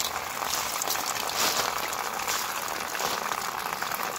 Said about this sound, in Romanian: o să turnăm apă în el